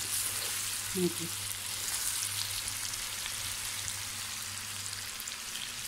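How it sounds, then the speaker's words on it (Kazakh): Meat fries over high heat in a kazan for plov, giving a steady, close sizzle and crackle with a low hum underneath and a brief clink near the start. "Мінекей өздеріңіз көріп тұрғандай жақсылап қуырылып жатыр."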